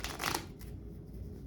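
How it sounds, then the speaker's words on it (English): Playing cards shuffled together in one quick riffle near the start, then a quieter low background hum, with no voices. "Now, other participant, tell them to shuffle this together"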